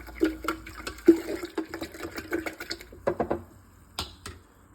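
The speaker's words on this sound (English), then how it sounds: "we're going to give that a stir. Just make sure all the sugar granules are dissolved." A spoon stirs sugar into freshly boiled water for kombucha, making soft watery swishes and light clinks against the container that are quiet and close and repeat irregularly.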